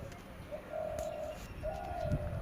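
A greater coucal gives low, hollow hooting calls in two drawn-out phrases, moderately clear over a steady outdoor background hiss with no talking.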